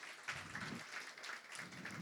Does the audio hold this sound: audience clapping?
yes